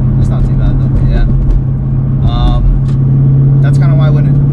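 Supercharged 2007 Mustang GT with pipes and muffler deletes, its deep exhaust rumbling steadily up close while someone talks over it.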